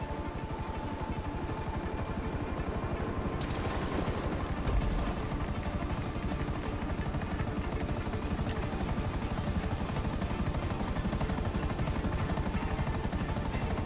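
Helicopter in GTA Online, a steady whirring rotor and engine drone that holds at an even level throughout, with one brief sharp click partway through and no talking.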